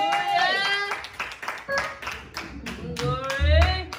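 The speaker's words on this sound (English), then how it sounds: "Come on, clap your hands." A church congregation claps hands in loose rhythmic bursts, mixed with voices speaking and calling out over the clapping.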